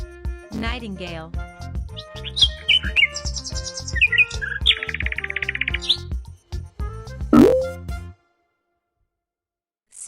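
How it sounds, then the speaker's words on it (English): Nightingale song in bursts of varied chirps, trills and rapid repeated notes, loud and close, with a voice naming animals over it before the song stops and silence follows. "Nightingale."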